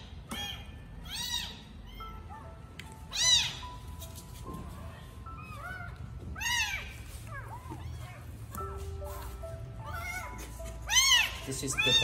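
Four abandoned baby street kittens crying loudly from a trash can, a series of high, piercing mews at irregular intervals, some overlapping, with steady background noise between the cries.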